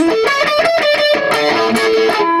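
A fast, distorted electric guitar lead, played loud and close with a rapid run of bent notes and a held bend toward the end.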